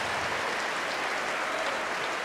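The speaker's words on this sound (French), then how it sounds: "Un geste applaudi par Nicolas Etcheto" Steady applause from spectators at a cesta punta match, a dense even wash of clapping holding at one level throughout, with no voices over it.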